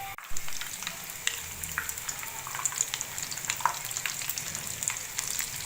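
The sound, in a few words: vegetable kababs frying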